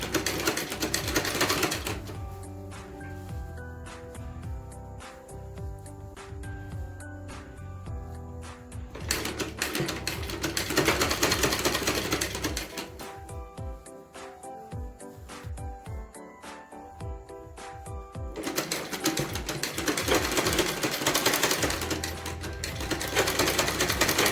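A sewing machine runs long stitching passes over large pleats on the front panel of a flared salwar, in steady close-up bursts separated by short pauses, with no talking.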